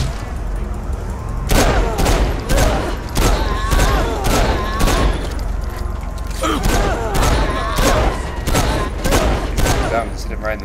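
Repeated pistol shots in the game Saints Row IV, a dozen or so loud, close bangs in quick irregular succession over a steady background of game noise and a talking voice.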